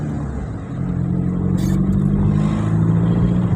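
A car drives past on the far side of the road, a steady close engine and tyre rumble swelling slightly toward the end with no voices.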